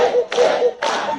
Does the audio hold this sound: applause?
yes